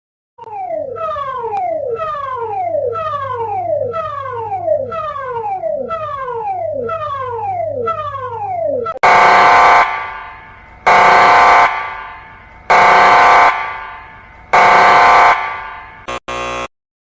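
An emergency alert system alarm: about nine seconds of rapidly repeating falling electronic tones, then four loud sustained harsh buzzing blasts separated by short gaps, ending abruptly.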